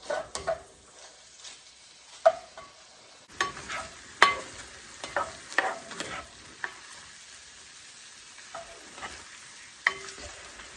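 Chicken pieces par-cook in a frying pan, a dry crackling sizzle with scattered pops and spoon scrapes over about ten seconds, fairly quiet and close, with no voices.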